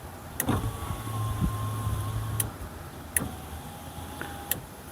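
A repaired power window on a Ford Transit van runs up and down, its electric motor whining in two long strokes with sharp clicks from the switch at the start and end of each movement, fairly quiet and with no talk.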